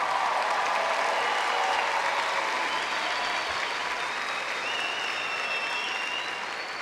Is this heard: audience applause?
yes